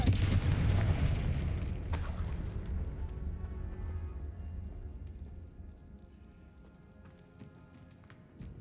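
A Confringo fire spell detonates in Hogwarts Legacy, a loud booming blast up front with a sharp crack about two seconds in, then a long rumbling decay fading toward quiet.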